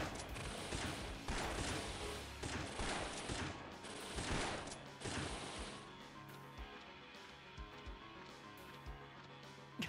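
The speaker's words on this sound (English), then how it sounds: "you could hear that the gunfire was from the defense force guns rather than the Mafia Tommy guns" Bursts of rapid automatic gunfire from defense force guns in the video game Trails from Zero and heavy impacts ring out, loud and sustained for several seconds before giving way to quieter mechanical clatter and tones.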